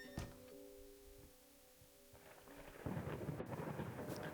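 Thunder in the horror video game Layers of Fear: a low rumble builds and then breaks into a loud, sustained crackling roll over steady rain, following a quiet stretch with faint tonal game ambience.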